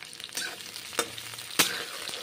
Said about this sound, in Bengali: সর্ষের তেল গরম করে নিয়েছি প্রথমে, তারপর পটলগুলো ভেজে নিচ্ছি।